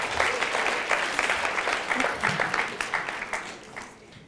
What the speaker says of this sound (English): I think your parents deserve an applause right now